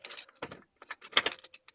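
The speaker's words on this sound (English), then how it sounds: "I gotta put the keys in again" Car keys for a 1955 Ford Customline jangling near the ignition, a few quick faint metallic rattles in short bursts.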